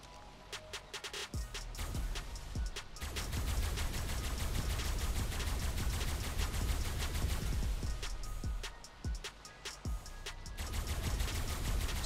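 Sustained automatic gunfire from a turret in the survival game ARK, a dense stream of rapid sharp cracks with brief pauses, fairly close and loud against a steady background.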